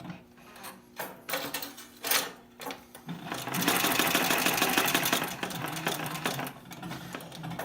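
Sewing machine stitching a seam, its needle hammering in a fast rhythmic chatter that starts in short bursts, then runs steadily loud for several seconds before slowing near the end; close and alone.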